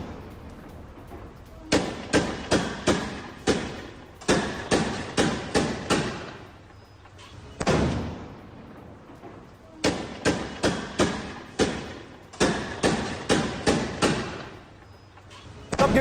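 Gunfire rings out during a raid in Gaza, with sharp reports arriving in quick bursts of four or five shots, separated by pauses and a heavier single boom, sounding moderately distant.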